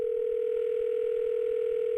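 A steady telephone dial tone heard while calling a radio station, one continuous unbroken pitch, loud and close, with no talking over it.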